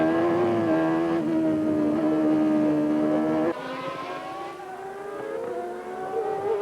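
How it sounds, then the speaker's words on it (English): Gerhard Berger's McLaren Formula One car from the 1991 season screams past at high revs, its tonal engine whine holding steady, then dropping in pitch with a gear change before climbing again as it pulls away down the track. "Here's Berger's McLaren coming past to take 4th place behind Patrese."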